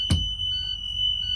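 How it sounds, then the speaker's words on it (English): Emergency window alarm on a bus during a pre-trip inspection, a steady high electronic tone that sounds alone after a short thump as the window opens. "Window opens, alarm goes off."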